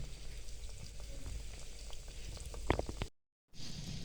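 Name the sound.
shakkar paray frying in oil over low heat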